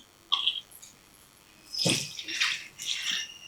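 Water poured into a pan of simmering prawn curry after onions and tamarind, heard as a brief splash followed by bursts of hissing, bubbling liquid, close and moderately loud with no talking.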